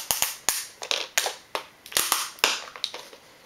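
A RAM module being pressed into its slot in a 2011 MacBook Pro, heard as a run of sharp, close plastic clicks and snaps at an irregular pace with no talking.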